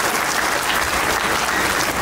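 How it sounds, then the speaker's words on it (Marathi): An audience at a guest lecture event in Ahilyanagar claps loudly and continuously for the teachers, a dense even burst of applause filling the room. "त्यांच्यासाठी एकदा जोरदार टाळ्या वाजवून त्यांचा"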